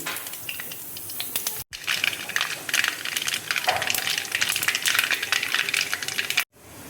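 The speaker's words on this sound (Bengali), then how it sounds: "এবার আমি সর্ষে ফোড়ন দেখো দিয়ে দিচ্ছি।" Mustard seeds tempering in hot oil in a wok for a jackfruit curry give a dense, steady crackle and sizzle that runs throughout, with two brief drops to near silence.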